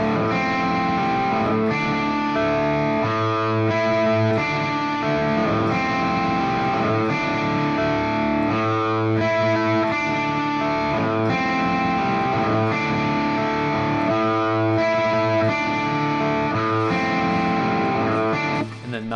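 A distorted electric guitar plays an intro riff over a low A pedal tone, dense crunchy chords repeating steadily and loudly with no accompaniment.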